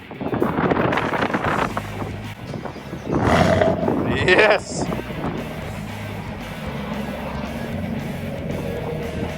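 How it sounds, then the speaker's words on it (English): A 2021 Chevrolet Camaro 1SS engine fires up on a sport-mode remote start with a loud exhaust roar, then settles into a low steady rumble, with wind buffeting and a brief voice. "Let's go ahead and hear what the sport mode start sounds like."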